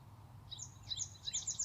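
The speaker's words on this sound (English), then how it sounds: "The birds are singing." Birds sing outdoors on a morning, a short run of high bright chirps and twitters over a low steady background hum, moderately faint, with no voices.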